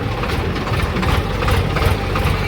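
A steady, low engine rumble idles close by without pause, a heavy diesel throb with a faint rattling vibration.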